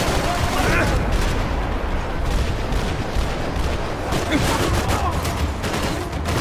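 Sustained heavy gunfire from the video game Max Payne 3, dense bursts of shots and explosive booms filling the whole stretch loudly, with a voice talking over part of it.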